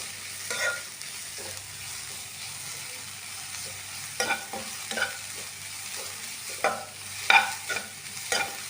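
Grated carrot frying in ghee over a low flame, a soft continuous sizzle under repeated scraping stirs of a spoon against the pan, close and moderately quiet with no talking.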